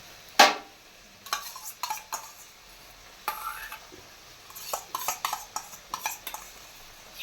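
Spiced masala cooking in a pan with yogurt and salt, stirred with a spoon that scrapes and clinks against the metal in scattered bursts, over a faint sizzle between strokes.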